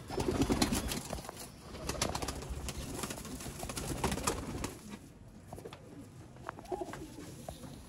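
Sialkoti Chuhe breed pigeons coo softly and repeatedly, mixed with light fluttering and rustling nearby, with no talking.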